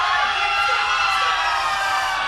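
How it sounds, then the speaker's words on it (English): Studio crowd at a trivia game-show battle cheers and whoops continuously, a loud, dense roar of many voices shouting and hollering together without pause. "The crowd rooting for Street."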